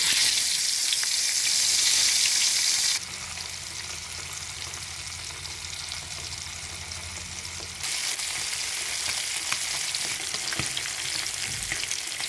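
Chapila fish fry in hot oil in a wok with a loud, steady hiss. The sizzle drops to a lower crackle partway through, then swells again near the end. Nobody speaks.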